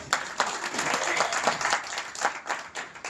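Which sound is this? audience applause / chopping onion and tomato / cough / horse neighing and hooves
audience applause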